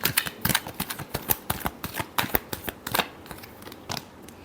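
Tarot cards are shuffled close up in a brisk run of crisp riffling and flicking snaps, dense at first and thinning toward the end, with no talking.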